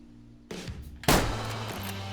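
A single loud rifle shot in the hunting game Way of the Hunter, a sharp close crack followed by a rolling echo that fades slowly, after a brief lower rumble.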